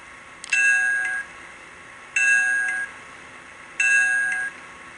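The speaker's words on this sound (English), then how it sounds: "The second feature that we have is the bell" Three evenly spaced electronic dings from a model train locomotive's bell, each ringing about a second with a soft decay, loud and close with no voices.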